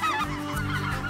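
Geese honking loudly and close during a duck and goose hunt, several overlapping calls in a continuous clamor with no talk.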